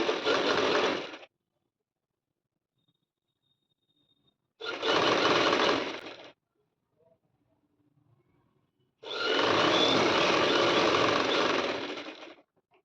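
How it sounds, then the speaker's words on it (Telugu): Sewing machine stitching a one-inch double-folded side slit on a dress or top, three close bursts of steady whirring, about a second, then two, then three seconds long, separated by silent pauses. "హాఫ్ ఇంచ్ ఫోల్డ్ చేసి మళ్ళీ హాఫ్ ఇంచ్ అంటే వన్ ఇంచ్ ఫోల్డ్ చేసి ఈ విధంగా స్టిచ్ చేసుకోవాలి"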